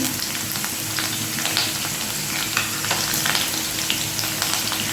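Chopped chili hits hot oil with garlic in a pan for egg tadka, giving a steady, close sizzle and crackle with occasional stirring scrapes and no talking.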